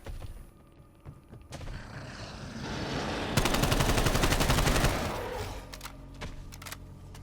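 Gunfire in Call of Duty Cold War Zombies aimed at an abomination, a loud sustained burst of rapid automatic shots in the middle, with scattered single shots and thuds before and after.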